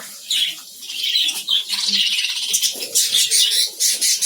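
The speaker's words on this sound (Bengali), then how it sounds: "আর পাখিগুলো দেখেন কত ভয়ে ছোটাছুটি করতে করতে একদম হাঁপাহাঁপি করতেছে" A colony of frightened budgerigars darts about, with dense, busy high-pitched chirping and chatter plus bursts of fluttering wings, close and continuous.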